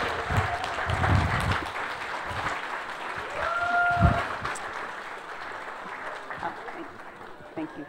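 An audience at a chocolate tasting event gives a round of applause, moderate clapping that swells and then gradually thins out, mixed with some crowd murmur and a brief tonal sound.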